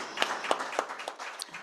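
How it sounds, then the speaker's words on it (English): An event audience at a forum claps briefly, a soft patter of scattered hands with a few sharper individual claps, fairly quiet and short. "I think we need to clap for them."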